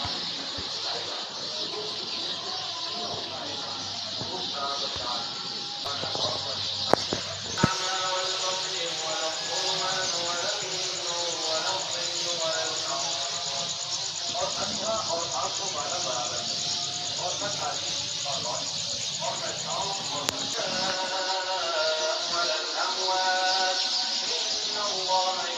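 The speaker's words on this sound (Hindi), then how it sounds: "चिड़ियों की चहचहाती आवाज़ें" Birds chirp in the early morning outside a home, rapid repeated calls sitting over a steady insect-like hiss, faint and distant throughout, with a few soft knocks.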